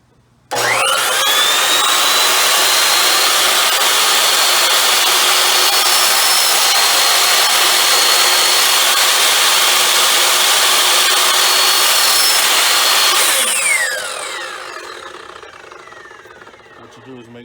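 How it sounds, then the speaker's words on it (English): A power tool cuts slots into a wooden shelf, a loud, steady high-pitched whine that holds for about thirteen seconds before winding down and fading. "I'm going to show you how to go ahead and cut the slots out for these"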